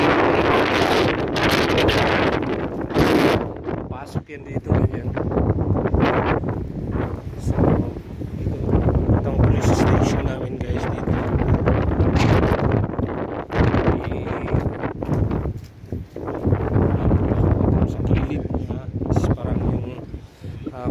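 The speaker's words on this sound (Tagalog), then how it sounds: "sakit pag tumatama sa skin dahil sa hangin" Strong wind roars and buffets the microphone continuously while a person talks underneath the gusts.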